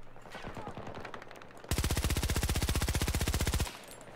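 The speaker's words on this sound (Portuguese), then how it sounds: "Agora olha a velocidade de tiro dela." Rapid sustained automatic fire from an AS VAL rifle in Battlefield 2042, a loud, even burst of closely spaced shots lasting about two seconds, preceded by quieter game ambience and faint movement.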